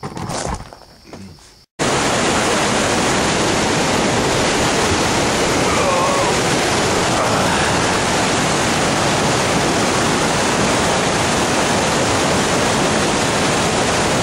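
River rapids roar with dense, steady rushing whitewater at a whitewater paddling festival, loud and continuous after a brief quieter opening moment.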